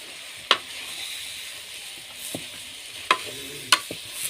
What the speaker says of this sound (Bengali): এখন চানাগুলো দিয়ে দেবো দিয়ে উপরে নিচে ভালো করে মিক্স করে নেবো